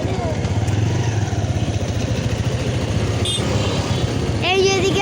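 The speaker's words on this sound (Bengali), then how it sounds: "এই যে মোটর সাইকেল। আমরা যাচ্ছি," A motorcycle being ridden gives a steady, close engine rumble that continues throughout, with a brief higher-pitched tone near the end.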